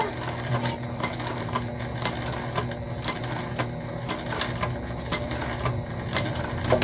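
Sewing machine stitching across the bulky zipper tab of a fabric ID holder, a steady near mechanical whir with rapid needle ticks and brief pauses, including a short back stitch, with no talking.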